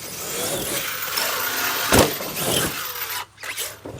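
An ARRMA Kraton 8S RC car, just fitted with a replacement rear suspension arm, drives on its wheels with a steady mid-pitched motor whine and rolling noise. A sharp clatter comes midway and a brief dip follows near the end.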